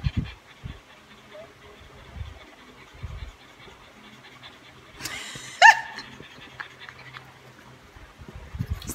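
A dog pants softly close by, then gives a brief high whimper near the middle before the panting settles back to a quiet, steady background.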